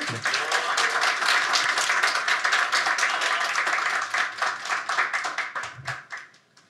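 Audience applause welcoming a student speaker at a school campaign event, a dense, steady clapping crowd that thins out and fades to quiet near the end.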